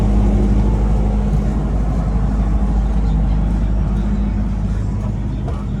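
A generator runs at an outdoor Punjabi film shoot, giving a loud, steady low drone with a constant hum that holds throughout without pause.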